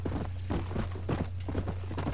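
Steady clip-clop of a horse's hooves at a brisk trot across the Great Plains in Red Dead Redemption, even and close, with a constant low hum beneath and no talking.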